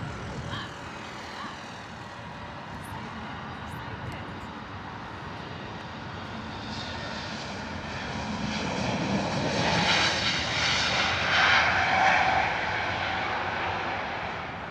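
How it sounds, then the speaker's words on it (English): A Lufthansa Airbus A320neo, a seven-year-old A321 variant, departs Heathrow for Munich, its engine roar building from a distant rumble to a loud broad sweep and starting to fade, with no talk. "Beautiful departure there from the Lufthansa A320 Neo off to Munich"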